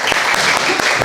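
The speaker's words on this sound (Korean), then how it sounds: "감사의 박수." Congregation applauding during announcements at a Korean Presbyterian church Sunday worship service, a steady dense clapping from many hands filling the room without a break.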